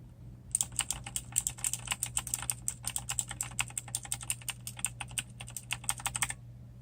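A Razer BlackWidow keyboard with Razer Kailh Green clicky switches clacks under fast, steady typing, with crisp close clicks in quick succession over a faint background hum.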